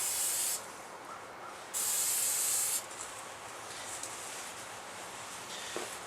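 Aerosol spray paint hissing onto a DIY survival stove in two sustained bursts, each about a second long, then a quieter steady hiss continuing to the end, close up.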